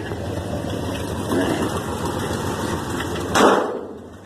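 A 1972 Ford F100 pickup's engine runs steadily after tuning, a smooth mid-level idle with a brief louder rev swell near the end, no talking over it.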